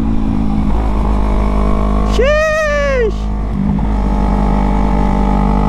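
A Yamaha MT-03 motorcycle engine running loud and close, a steady rumbling drone with a rising and falling rev in the middle, while someone shouts an exclamation over it.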